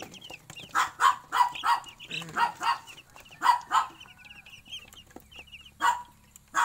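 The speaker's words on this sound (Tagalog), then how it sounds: "Maliksik naman ang ating mga sisiw." Young chicks in a brooder chirp in repeated bright, high peeping bursts, close and fairly loud, with short pauses between calls.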